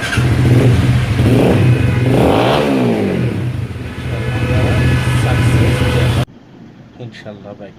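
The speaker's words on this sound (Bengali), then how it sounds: "তারপরে বাইকটা আমরা স্টার্ট করে চেক করে নেব একবার যে কীরকম অবস্থা কী হলো।" A Roadmaster Rapido 150cc motorcycle with a newly fitted modified CDI unit starts and revs hard and close, its engine note climbing and falling in loud throttle bursts before cutting off abruptly near the end.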